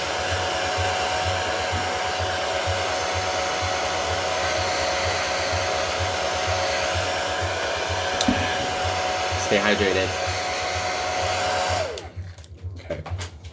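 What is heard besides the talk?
hair dryer blow drying makeup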